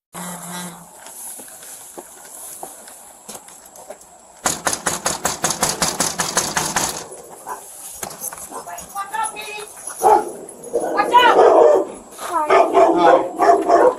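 A dog barks in rapid, loud, repeated bursts at a domestic disturbance call in Ohio, caught on a police bodycam with an engine rumbling underneath. Voices talk before and after the barking.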